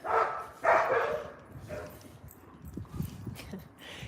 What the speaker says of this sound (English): Those are the regular dogs, people.